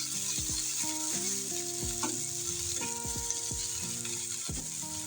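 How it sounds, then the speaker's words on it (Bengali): Chopped onion, garlic and green chili stir-fry in oil in a pan, giving a steady close sizzle broken by scraping stirs and a few faint tonal tones. "দিয়ে দেবো পেঁয়াজ কুচি, আর দিয়ে দিচ্ছি রসুন আর কাঁচামরিচ কুচি। একটু নেড়ে চেড়ে ভেজে নিই।"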